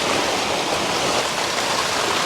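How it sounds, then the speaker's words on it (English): Water runs hard over a paint pan as it is rinsed out outdoors, a loud, continuous splashing rush that covers the whole moment, with no talking. "Getting my paint pan nicely rinsed out over there."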